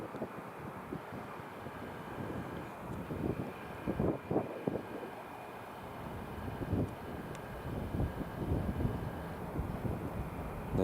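An EasyJet airliner departing Newcastle International Airport, a distant rumbling jet roar swelling and fading in gusts, broken by wind buffeting on the microphone.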